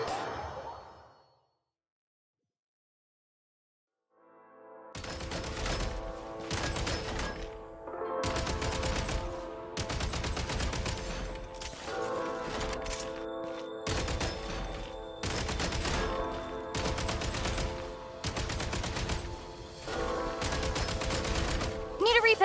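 Rapid bursts of video-game gunfire at a shooting range, loud and close, repeating in clustered volleys after a short silent gap, with brief quiet pauses between strings of shots.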